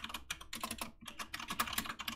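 Rapid, continuous clatter of keys on a computer keyboard, close and quiet, with irregular bursts of keystrokes and brief pauses, no voices.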